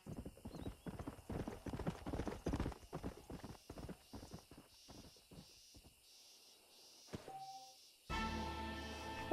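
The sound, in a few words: horse hooves in Red Dead Redemption video game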